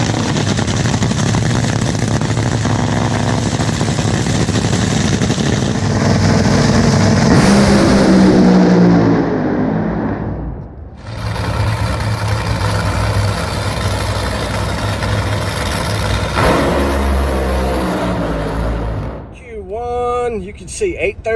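Drag racing car engine roaring steadily and loudly at the start of a race, with a revving pitch sweep, a brief drop, then renewed heavy engine noise, with someone talking over it throughout.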